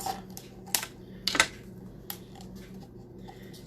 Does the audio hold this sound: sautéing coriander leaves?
no